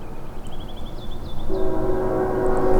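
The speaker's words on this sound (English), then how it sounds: "Well, the next train's coming" A train rolls past outdoors with a steady rumble that swells halfway through as a loud, sustained horn blast sounds close by, mechanical squeals and clatter layered above.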